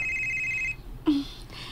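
A telephone rings with an incoming call, a steady electronic ringtone tone lasting under a second before cutting off, followed by a short low voice sound and quiet room noise.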